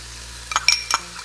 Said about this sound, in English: we're gonna saute for another 3 to 4 minutes